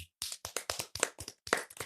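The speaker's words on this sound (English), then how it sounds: "Give me a round of applause right now." Quick burst of hand claps, about eight sharp separate claps in a steady rhythm, close and fairly quiet, with no voices over them.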